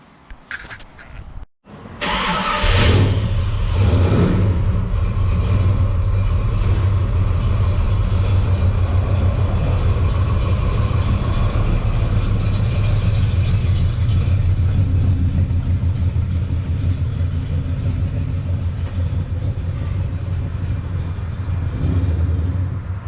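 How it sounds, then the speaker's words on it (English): A 1972 Chevelle convertible engine cranks briefly, catches, and settles into a steady, loud rumbling idle that runs on continuously. "Let me fire it up and drive it outside, and we'll listen to it outside."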